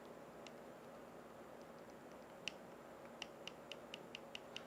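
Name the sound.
D-pad button presses on Backbone Pro mobile controller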